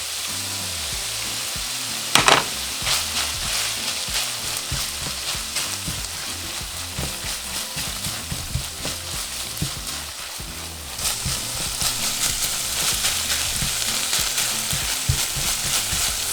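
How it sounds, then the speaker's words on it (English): Onions sizzle and fry steadily in a pan with chorizo, a dense continuous crackle that stays close and loud throughout, with a brief sharper clatter early on and no talking. "we're going to cook our onions for 5 minutes or until they're translucent"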